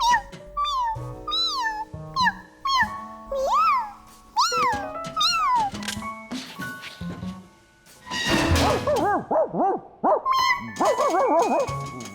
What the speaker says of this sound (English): The bark stopped.